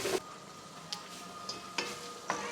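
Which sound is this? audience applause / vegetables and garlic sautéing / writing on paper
vegetables and garlic sautéing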